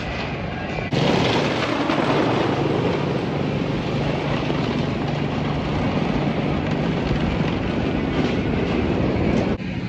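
A loud, continuous rumbling roar of a roller coaster train running along its track at Indiana Beach amusement park, steady and close throughout with a rattling, clattering texture.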